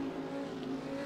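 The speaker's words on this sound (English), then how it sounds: "The guy that just passed me there" A race car in the RaceRoom racing game drones past with a steady mid-pitched engine tone, brief and moderately faint.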